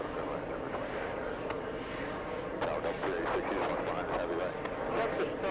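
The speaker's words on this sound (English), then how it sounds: "Let's go for the big 777." Boeing 777 jet airliner at an LA airport, a steady, loud engine roar that holds throughout, with a few sharp clicks partway through.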